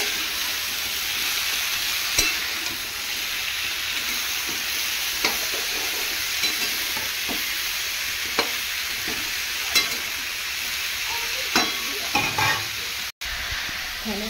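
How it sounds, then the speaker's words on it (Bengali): Vegetable stalks sizzle steadily in hot oil in a pan, with a spatula scraping and stirring through them in irregular knocks and rustles over the continuous close frying hiss. "এখানে ডাঁটাগুলো দিয়ে ভালো করে নেড়ে চেড়ে নেবো।"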